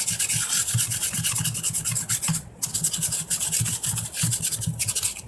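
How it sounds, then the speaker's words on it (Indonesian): Rapid back-and-forth rubbing of wet sandpaper on a Chevy Blazer throttle body, a steady close scratchy rasp with even strokes throughout and one brief pause midway, no talking. "Kemudian kita amplas saja langsung seperti ini."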